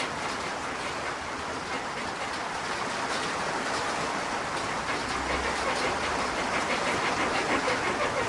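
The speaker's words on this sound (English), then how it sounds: "Can you hear the rain?" Steady rain hisses with a dense, even patter that holds at a constant level throughout, with no voices.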